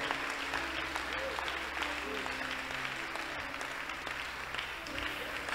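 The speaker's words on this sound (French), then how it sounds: "Est-ce que quelqu'un peut applaudir?" Congregation clapping at a church service, an even wash of hand claps sustained throughout while a low hum and faint voices run underneath.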